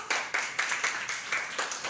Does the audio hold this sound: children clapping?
yes